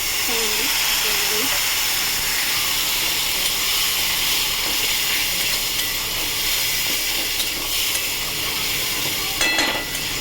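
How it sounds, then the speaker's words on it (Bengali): A little water is poured into frying ground turmeric, chili, coriander and cumin for a fish curry, making a steady, close hiss and sizzle, with a brief voice sound near the start and a clatter toward the end. "সামান্য জল ঢেলে দেবো।"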